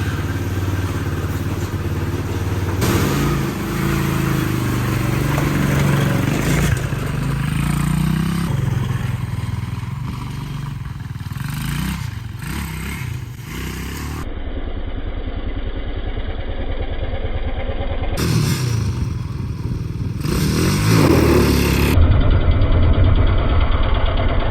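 A Chinese quad ATV engine runs while being ridden, a steady close buzzing drone that rises and falls with throttle changes throughout, with no talk over it.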